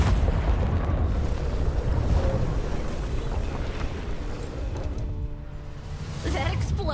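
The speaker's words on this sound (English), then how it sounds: "That explosion was wild." A deep, rumbling blast from an explosion in the video game Hard West 2, with booming low-end texture that rolls and fades over several seconds.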